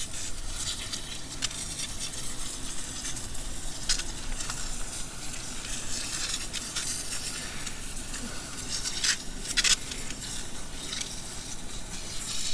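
Running water rinses a freshly dug turmeric root, giving a steady close hiss and splatter with scattered small knocks and rubbing sounds as the root is handled under the stream.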